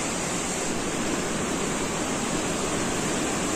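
A waterfall at Langkuik Tinggi in West Sumatra roars steadily as a dense, broadband wash of falling water, close and loud, unbroken throughout with no voices.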